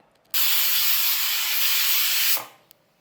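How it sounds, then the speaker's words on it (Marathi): Pressure cooker on a medium flame letting out one loud, close steam whistle, a sustained hiss lasting about two seconds that cuts off abruptly, with no talking. "कुकरचं झाकण लावूयात आणि कुकरच्या मीडियम फ्लेमवरती 2 शिट्ट्या करून घेऊयात"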